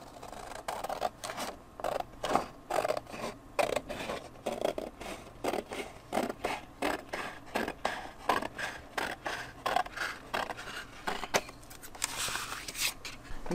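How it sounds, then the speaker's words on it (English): Scissors snip through paper while a book cover is being made, a quick run of close, crisp cuts and rustles repeating steadily throughout. "I'm going to go with cutting the paper with scissors"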